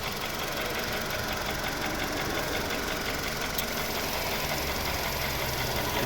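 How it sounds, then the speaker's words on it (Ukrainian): A 2007 VW Cross Polo 1.6 petrol engine idles steadily at close range, a fine rhythmic ticking and knocking over a constant low hum, with no voices. "Ось робота двигуна."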